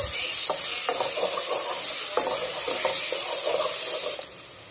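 Chicken frying in a pan with crushed garlic and onion, giving a steady close sizzle with irregular stirring scrapes and clatters throughout, which cuts off sharply near the end.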